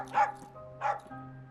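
A dog gives two short, high yipping barks about half a second apart, moderately close, over a low background hum.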